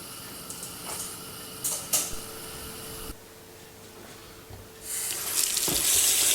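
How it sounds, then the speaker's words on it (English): Tap water runs into a kitchen sink while charred pepper skin is rinsed and peeled off for a Spanish-style paella, a steady hiss with brief louder splashes and a stronger gush near the end. "And then just peel all that black off under a little bit of running water."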